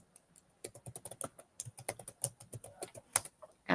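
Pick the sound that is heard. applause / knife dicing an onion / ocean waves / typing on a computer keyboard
typing on a computer keyboard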